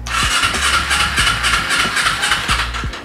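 Carbureted motorcycle engine being started after a battery hookup, with a series of sharp cranking or firing pulses and a rough mid-pitched mechanical churn, loud and close with no talk over it.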